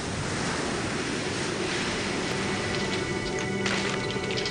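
Sea waves lash against thawing permafrost cliffs on an Arctic island, a loud, continuous roar of surf and churning water with steady wind noise and no voices.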